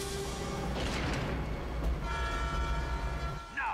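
A train passes in the James Bond video game Everything or Nothing: a loud, continuous rolling rumble with tonal horn-like lines emerging toward the end.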